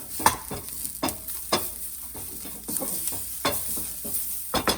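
Spiced samosa filling with dried mango powder and garam masala stirred in a pan, a spoon scraping and knocking against the pan in irregular strokes over a soft sizzle, close and alone.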